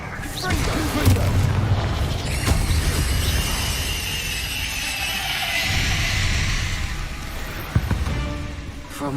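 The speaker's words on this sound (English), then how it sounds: "Confringo." A Confringo spell in Hogwarts Legacy bursts into a deep booming explosion, followed by rumbling debris and rising shimmering magical tones, loud and full in a game soundscape.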